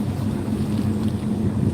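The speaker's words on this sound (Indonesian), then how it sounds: "anginnya cukup kencang ya." Strong wind buffets the microphone in a steady, loud low roar outdoors, with no talking.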